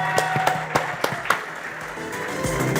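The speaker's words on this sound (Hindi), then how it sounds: "तो जोरदार तालियां साबू सर के लिए।" Applause at a result celebration event as a faculty member is called up: a crowd clapping steadily over the room's noise, with a few sharp louder claps standing out near the start.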